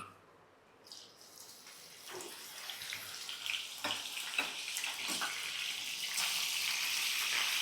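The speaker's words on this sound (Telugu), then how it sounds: "నూనె మంచిగా వేడెక్కగానే ఇదిగోండి ఈ చేప ముక్కలు దాంట్లో వేసేసుకోవాలి" Fish pieces dropped into hot oil, first faint and then building into a loud, steady sizzle that grows denser and brighter as the frying takes hold, with no talking.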